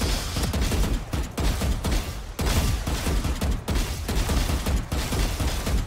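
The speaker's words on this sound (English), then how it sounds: "All the bullets I'm shooting are going to go straight." Gunfire in the tactical shooter Valorant: steady, rapid bursts of shots in a regular rhythm, moderately loud and close, with brief gaps between volleys.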